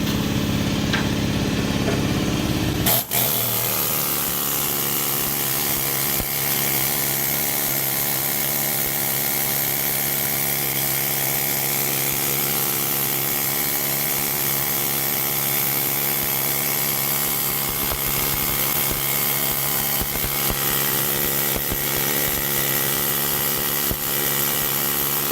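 A needle scaler, Harbor Freight versus Northern Tools, chatters loudly against painted metal to strip paint, a dense rapid buzzing hammer that starts abruptly after a few seconds and runs on continuously.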